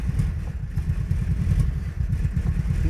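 Engine of a ZAZ-965 Zaporozhets, an old hunchback car under revival, revving loud and close with a rough low throbbing rumble that responds sluggishly to the throttle yet keeps running throughout.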